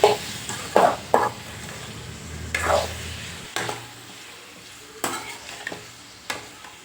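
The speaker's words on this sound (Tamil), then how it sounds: "தக்காளி நல்லா ஒரு 2 நிமிஷத்துக்கு நல்லா வதக்கி விட்டுருவோம்" Five ripe tomatoes sautéing in a pan, a soft steady sizzle punctuated by repeated scraping and clinking stirs of a spoon against the pan, close up with no one talking.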